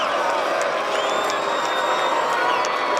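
A baseball stadium crowd at a college game sends up a steady, dense roar of cheering and scattered whoops, sustained at full strength throughout with no pauses.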